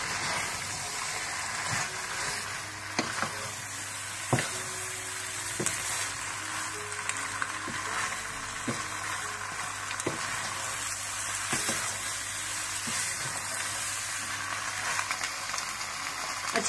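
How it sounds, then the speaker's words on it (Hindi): Chicken pasta being stirred in a hot pan, a steady loud sizzle and frying hiss with occasional soft scrapes and knocks of a utensil against the pan, no voices. "और अच्छी तरह से आप मिला लें।"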